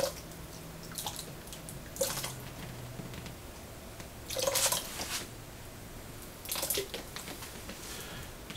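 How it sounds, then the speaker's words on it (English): Shino glaze poured down the side of a pottery vessel, giving a few short wet splashing and dripping bursts separated by quiet gaps, fairly soft and close. "I'm going to just randomly pour a little bit just down the side"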